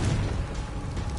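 A Confringo fire-blast spell in the game Hogwarts Legacy erupts as a short, loud, dense burst with a heavy low rumble, filling the moment with no voices.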